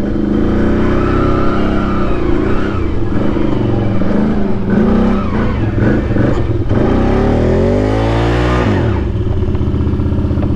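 A car revs hard and pulls out onto a field track deeply rutted by large tractors, loud close engine strain rising and falling, with a final surge of acceleration.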